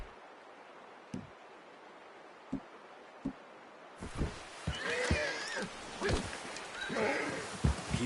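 Red Dead Redemption 2 horse sounds: soft hoof steps at first, then a close whinny and snorting with rustling movement, fairly quiet overall.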